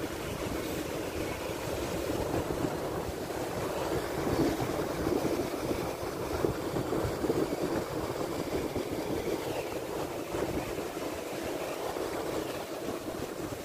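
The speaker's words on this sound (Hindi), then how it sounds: "आवाज सुनो पानी की माशाल्लाह कितना शोर है ये अजमान का समंदर" Sea waves wash onto the shore at Ajman beach in a steady, continuous roar, loud and broad with no pauses, heard alone without any talk.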